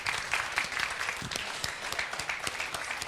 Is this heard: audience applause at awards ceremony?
yes